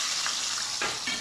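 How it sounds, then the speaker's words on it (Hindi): Food fries in hot oil with a dense, continuous sizzling hiss, close and steady, a few soft crackles rising briefly within it. "एक और मेरा ये फ्राई हो रहा है।"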